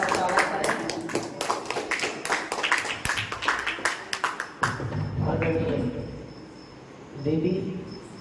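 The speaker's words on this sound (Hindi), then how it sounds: "जोरदार तालियों के माध्यम से स्वागत करें" A seated audience at a scholarly gathering claps in a quick, dense burst of applause lasting several seconds before it stops and a voice begins speaking.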